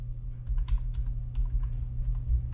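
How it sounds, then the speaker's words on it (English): Quick typing on a computer keyboard, soft clicking keystrokes over a steady low hum. "you can just type in localhost."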